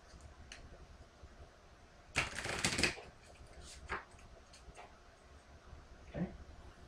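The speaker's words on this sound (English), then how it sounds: "So I'm going to shuffle." Playing cards for a dungeon-crawl board game are shuffled in one quick, crisp riffle of under a second in a quiet room, followed by a few soft taps and card handling.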